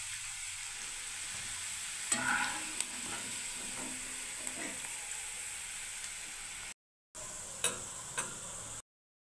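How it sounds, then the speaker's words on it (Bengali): Peanuts fry in a pan after onions and curry leaves, giving a steady crackling sizzle with occasional sharper pops and stirring clicks, briefly cutting out twice near the end. "বাদামটাকে আমি এর মধ্যে ভেজে নিচ্ছি বন্ধুরা"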